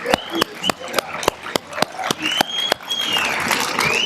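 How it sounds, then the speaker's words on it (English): An audience at an Africa Day celebration marking the OAU and African Union anniversary applauds, starting as a few distinct, evenly spaced claps that swell into steady applause while a voice speaks over it. "Applaudissements, s'il vous plaît."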